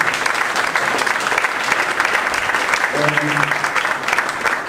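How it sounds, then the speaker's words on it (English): A room of business attendees gives Ryan a big round of applause, dense steady clapping throughout with a faint voice or tone briefly audible near the end. "let's give Ryan one more big round of applause"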